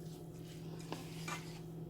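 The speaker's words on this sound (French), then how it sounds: "je mélange à feu éteint du coup ma viande" A utensil softly stirring meat, vegetables and ras el hanout in a pan with the heat off, faint scraping and clinks over a steady low electrical hum.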